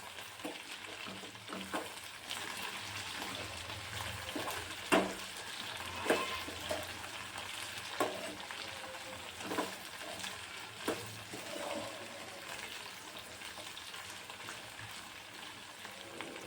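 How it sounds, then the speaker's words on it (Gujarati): Okra sabji sizzles quietly in a pan while a spoon stirs it, giving soft scraping clicks every second or so over a low, even frying hiss, close and fairly faint. "ભીંડો મિક્સ થઈ જાય પછી આપણે થોડીવાર ચડવા દઈશું અને ફરીવારથી થોડીવાર ચમચો ચલાવી લઈશું"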